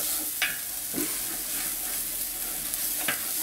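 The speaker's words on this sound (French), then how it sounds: "on fait revenir un peu les oignons" Onions frying in a pan while a rabbit dish is prepared, giving a steady soft sizzle with a few brief stirring scrapes, close and alone with no talk.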